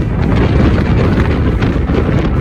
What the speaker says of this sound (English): I think the wind there rivaled Patagonia